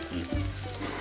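Veggie burgers sizzling and frying in a pan, a steady close crackling hiss with a low hum underneath.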